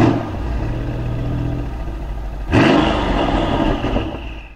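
Supercharged Mercedes W202 car accelerating from 0 to 100, with a steady engine hum that rises sharply into a loud, close surge of revving before it eases off.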